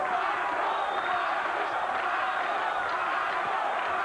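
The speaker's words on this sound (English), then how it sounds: "The crowd here at Keyspan Park in Coney Island, New York, starting to get behind Camacho Jr." A boxing crowd at Keyspan Park in Coney Island, New York, keeps up a steady roar of cheering and shouting, a dense far-off wash that holds at an even level throughout.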